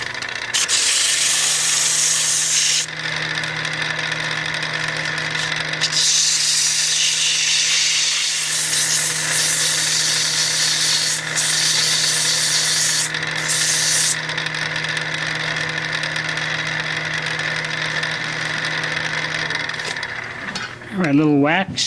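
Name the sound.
sanding a wooden mallet on the lathe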